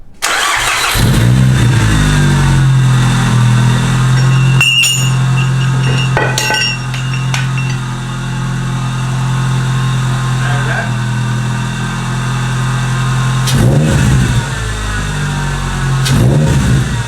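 A car engine barks to life and revs hard through a 2J Racing side exit exhaust, loud and close, with sharp blips, a steady throaty idle between them and another burst of revving near the end.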